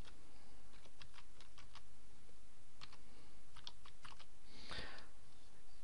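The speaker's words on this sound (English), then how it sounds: "the first thing to do is to enter the domain name that you're thinking about registering" Quiet, close bursts of typing on a computer keyboard as a domain name is entered, clusters of light key clicks separated by short pauses, with one louder clack near the end.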